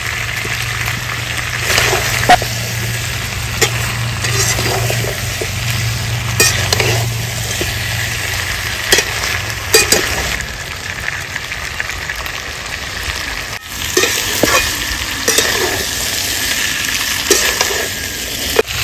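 Fried potato pieces and mutton frying together in a pan for a village-style mutton curry, a loud continuous sizzle with intermittent scraping and stirring clatters up close, no voice over it.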